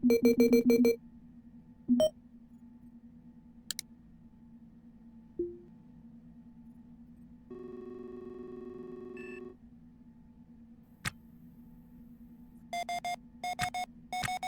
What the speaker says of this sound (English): Proximity alarm, thank you